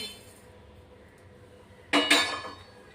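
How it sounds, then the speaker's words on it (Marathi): Roasted peanuts and sesame seeds tipped into a mixer grinder jar make a short, close rattling clatter that bursts out near the end, with no one speaking. "हा शेंगदाणे तीळ भाजून झाली, थंड झाली। आपण आता मिक्सरच्या भांड्यात ओतून घेऊ।"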